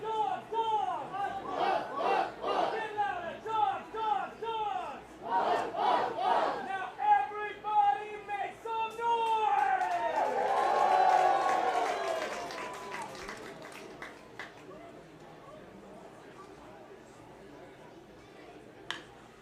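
Crowd at a Swift Current Indians baseball game in Okotoks roars in a sustained cheer that swells midway and then fades, with voices and announcer talk heard over it.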